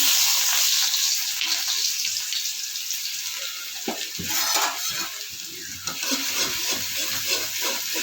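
Green chilies and shushni greens frying in hot oil, a continuous close sizzle with scattered spatula scrapes and light knocks against the pan, no voices.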